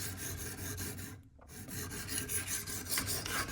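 Steady rasping strokes of a CPM-10V steel edge on a Spyderco Paramilitary 2 knife being sharpened, close and continuous, with one brief pause partway through before the scraping resumes.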